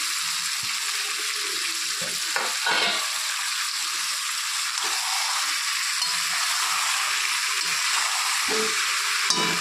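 Tomatoes frying in mustard oil for chicken kalia, a dense continuous sizzle with occasional stirring scrapes and bubbling, close and steady throughout with no speech.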